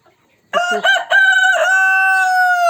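A single loud rooster crow close by, rising into a long, sustained cock-a-doodle-doo after a brief silence.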